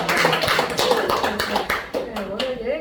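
A small group claps in a burst of sharp, irregular hand claps during a hair-coloring product demonstration in Ansan, with voices talking over the applause throughout.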